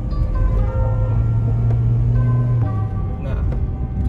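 A Mitsubishi Xpander 1.5 automatic revs up toward 4000 RPM, its engine drone rising and holding steady inside the cabin with a low rumble beneath.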